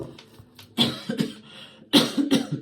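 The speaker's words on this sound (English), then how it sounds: "Hiccups, now coughing" Two bursts of coughing a second apart, close and fairly loud, with quieter breathy sounds between them.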